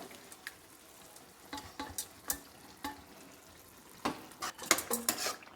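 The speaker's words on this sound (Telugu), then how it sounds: "ఆ కింద వేసిన వెజిటేబుల్స్ ఈ మ్యాష్ చేసుకున్న వెజిటేబుల్స్ అన్ని మిక్స్ చేసేటట్టు స్టిర్ చేసుకోవాలి" Mashed vegetables for pav bhaji are stirred in a pan, giving irregular scrapes and clinks of a spoon against metal over a faint, low sizzle, with louder clustered strokes near the end.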